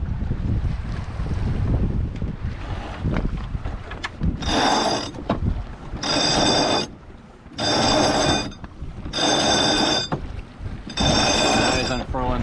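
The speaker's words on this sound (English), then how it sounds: "That is unfurling head sail." A headsail is unfurled on a sailboat making about five knots on the Potomac River, heard as a run of loud, evenly spaced rattling bursts over heavy wind noise, with voices talking at the start.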